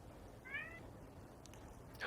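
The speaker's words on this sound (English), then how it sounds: "did I hear a kitty?" A cat gives a short, faint meow in the background of a tabletop role-playing game session, with a light noise bed and a few brief clicks following it.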